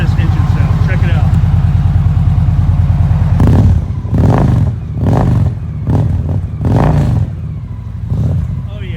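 A 2014 Victory Cross Country Factory Custom motorcycle with Vance & Hines pipes idles with a deep, loping rumble, then gets blipped through about four sharp throttle revs that rise and fall, close and loud.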